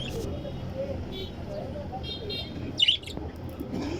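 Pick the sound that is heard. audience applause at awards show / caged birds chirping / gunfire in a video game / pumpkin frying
caged birds chirping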